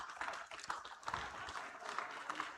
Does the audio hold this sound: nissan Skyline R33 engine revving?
no